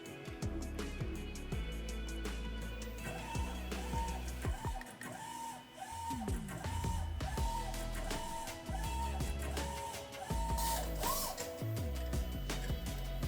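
A Mimaki TxF150-75 DTF printer works through a print job, with its print head carriage sweeping back and forth in repeated whirring passes, gear and ratchet clicks, and mechanical ticks. The sound is close and steady, with no talk.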